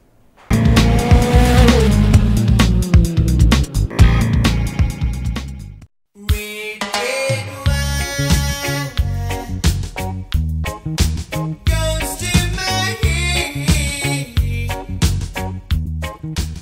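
Loud twin-cylinder motorcycle engines with dual exhausts rev hard and snarl continuously, drop briefly to near silence, then roar back with throttle blips.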